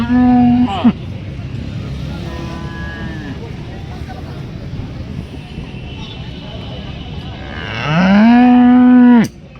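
A calf at the Alephata cattle market moos loudly and close by several times: a short call at the start, a softer one in between, and a long drawn-out bellow near the end.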